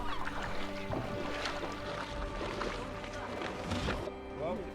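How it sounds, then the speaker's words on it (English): A low, steady boat engine drone hums throughout, with water slapping and clunks layered over it and voices speaking at times, while landing on a desert island. "Only the hum of the engine broke through the stillness."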